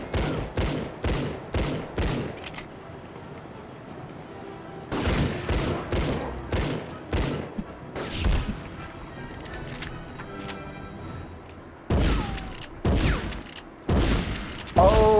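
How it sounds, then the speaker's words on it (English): Panzerschreck rocket launcher from the Medal of Honor video game firing in loud, repeated booming bursts that cut through busy battle noise, with a voice talking in between. "Oh, is that a rocket launcher?"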